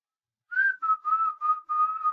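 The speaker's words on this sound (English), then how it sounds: "That's whistling, I guess." A person whistles a short run of clear tonal notes, five or six bursts in a rough rhythm, close and distinct against silence with no talking.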